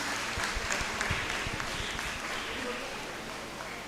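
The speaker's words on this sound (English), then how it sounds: "Let's give a round of applause" Steady applause from a crowd at a college engineering graduation ceremony, a dense wash of clapping that holds at an even level throughout, with some sharper individual claps near the start.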